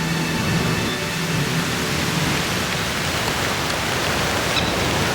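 Steady heavy rain falling in Hokkaido during a multi-day rainy spell in early summer, a dense continuous hiss that stays loud and unbroken from start to finish.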